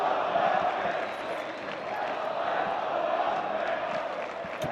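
A large arena crowd at an esports Major tournament elimination match between OpTic Texas and LA Guerrillas roars in a sustained, distant wash of cheering and shouting.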